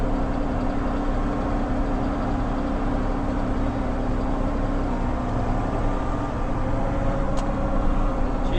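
A new Valtra T2 tractor engine idles steadily on a dairy farm, a continuous low, rumbling drone that stays constant and fairly loud throughout, with no talking over it.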